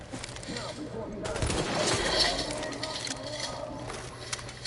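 Gunfire from The Division video game, bursts of shots mixed with game ambience at moderate loudness, a heavier volley in the middle, with a voice talking over parts of it.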